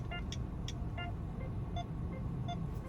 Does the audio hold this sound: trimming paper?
no